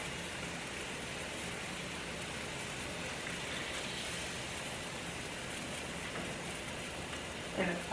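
Chicken broth pours into a hot sauté pan of mushrooms, raising a steady, rain-like sizzle that hisses evenly from start to finish at close range, with a small clatter at the very end.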